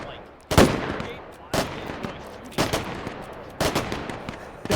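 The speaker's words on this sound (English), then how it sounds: "Wish our gun was a little quieter there." A gun fires at a firing station in the VR shooting game H3VR, giving four loud, sharp shots about a second apart, each trailing off into a short echoing tail.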